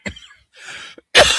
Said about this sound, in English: I don't know why I'm coughing all of a sudden.